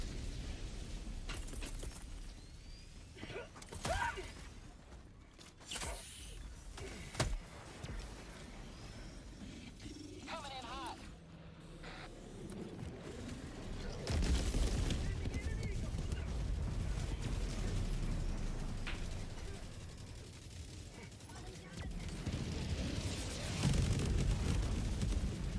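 Bombing explosions in a video game, a string of booming blasts and bursts of varying loudness that grow denser and heavier toward the end, with low rumbling underneath.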